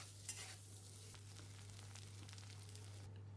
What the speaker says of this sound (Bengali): এবার ওই তেলেই আমি একটা আলু যে সিদ্ধ করে কেটে রেখেছিলাম সেটা ভেজে নেব